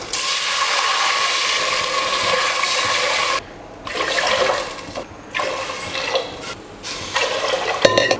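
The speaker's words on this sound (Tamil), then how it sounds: "இதில் 5 டம்ளர் தண்ணி ஊற்றிருக்கேன்." Water pours into a pot for making pongal in a continuous loud rushing stream, pausing a few times between pours.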